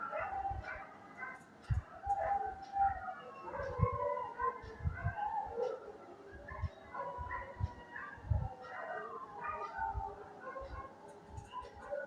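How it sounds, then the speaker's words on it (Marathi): A dog yips, whimpers and howls in uneven bursts, somewhat distant, mixed with other dogs and a faint voice in the background. "आमच्याकडे वाहनाचा आणि हा कुत्र्याचा कायम आवाज आहे"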